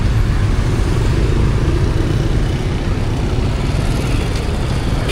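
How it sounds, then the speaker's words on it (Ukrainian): Dense motorbike traffic on a street in Vietnam, a loud continuous wash of many small engines and road noise with no breaks. "Ходімо, Аліса між байками обійти, але й не скрізь."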